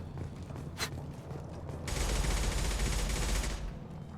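Sustained automatic gunfire in Mass Effect 2 bursts in loudly after a single earlier shot and rattles steadily for about two seconds before cutting off.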